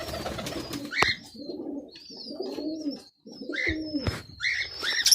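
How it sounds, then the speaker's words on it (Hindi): Racing pigeons coo in a series of soft, rounded low calls, several birds close by, with higher chirps and a couple of sharp knocks scattered between the phrases. "ये बाजियों में उड़े हुए कबूतर हैं"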